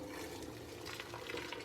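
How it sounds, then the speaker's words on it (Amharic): Hot water is poured into a cooking pot of food being prepared, a faint, steady splashing stream with no talk over it. "ውሃውን ደግሞ አምጥቼ ገለብጥበታለሁ።"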